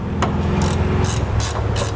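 A bracket bolt tightened on a B and W fifth wheel trailer hitch being installed in a 2007 Toyota Tundra gives off several quick ratchet clicks in bursts, close and fairly loud, with no talking.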